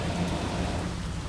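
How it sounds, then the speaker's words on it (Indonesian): Steady heavy rain falling outside during a bus convoy, a dense even hiss with no talk. "Dan udan. Hujan. Sambut air hujan."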